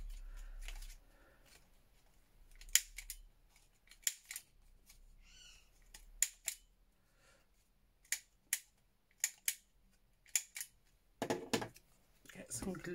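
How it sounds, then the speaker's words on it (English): Scissors snip the paper corners of a junk journal pocket, a series of crisp, close, quiet cuts spaced irregularly in a hushed room, with soft handling noises between them. "Snip the corners first."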